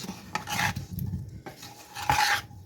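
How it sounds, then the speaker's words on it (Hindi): Potatoes tossed with a little soy sauce are stirred in a pan, giving a few scraping, rasping strokes in short bursts, close and fairly loud, with no voice over them. "अच्छा, इसको हम करेंगे मिक्स अच्छे से"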